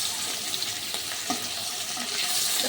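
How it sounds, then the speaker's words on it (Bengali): Fish sizzles steadily in hot oil in a wok-style kadai, a loud, continuous frying hiss with faint clinks of stirring and no voices. "বসিয়ে দিয়েছি কড়াইতে, এবার তেল দিয়ে দেবো, দিয়ে মাছটাকে ভেজে নেবো।"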